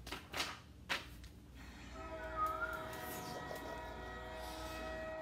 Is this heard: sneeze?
no